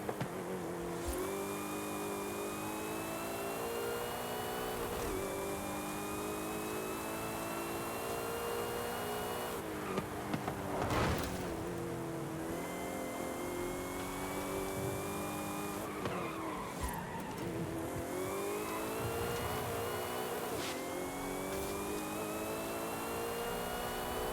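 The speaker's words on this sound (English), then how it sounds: "Hear that supercharger." Supercharged Porsche in Forza Horizon 5 on a track day, the engine revving hard with a steady supercharger whine, rising and falling through gear changes alongside repeated tire squeal and skidding, loud and close with no talk.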